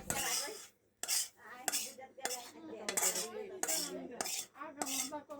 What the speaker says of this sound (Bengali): এখন মাংস ঢেলে দিতেছে মাংস ঢেলে দিয়ে অনেক নাড়া চারা করতেছে ওনারা